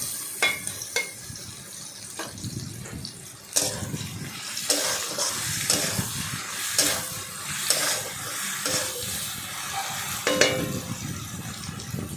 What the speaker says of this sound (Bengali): তেল দিয়ে সেটাকে ভালো করে ভাজলাম